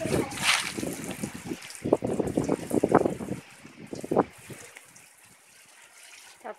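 Water splashes and trickles onto soil while a home vegetable garden is watered, in irregular close bursts that fade toward the end, with people talking over it.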